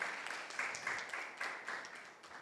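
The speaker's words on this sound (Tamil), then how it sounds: "குழந்தைகளுக்கு கைத்தட்டி உற்சாகப்படுத்தி வரவேற்போம்" Faint, distant applause from a small group welcoming children at a book event, a soft patter of many hands clapping steadily throughout.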